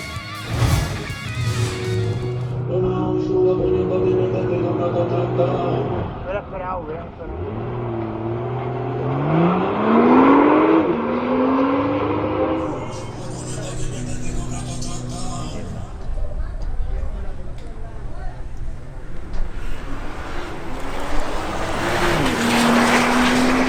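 A BMW M240i xDrive accelerating hard in a drag race, its engine rising through several gear changes with climbing pitch, loud and close at first then fading into the distance, with a commentator talking over it.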